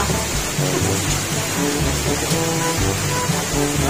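Steady rain falls on surfaces while rumbling thunder rolls in repeated low bursts beneath it, loud and continuous throughout with no talking.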